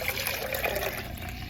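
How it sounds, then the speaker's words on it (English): Fresh celery juice pours into a container in a steady, close trickle of liquid, a continuous wet stream lasting a moment with no talking. "his first time drinking fresh celery juice, so I have to pour it in here so he doesn't make a mess"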